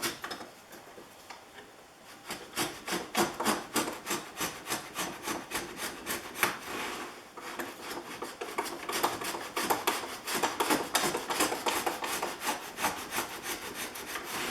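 Repeated rhythmic strokes of a Stanley 444 dovetail plane cutting a dado in wood, its fence held against a batten board; steady scraping rasps follow a short pause, near and loud, with no voices.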